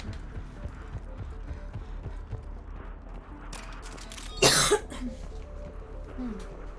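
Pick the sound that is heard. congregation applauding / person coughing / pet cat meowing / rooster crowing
person coughing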